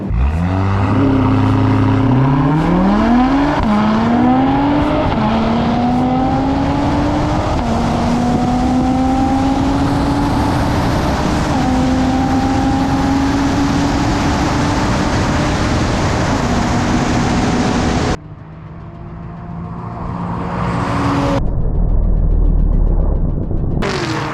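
A 2022 Acura TLX Type S, a Camaro LT1 with a 10-speed and a Genesis G70 3.3T race. Loud engine roar climbs through the gears, dips briefly near the end, then surges back.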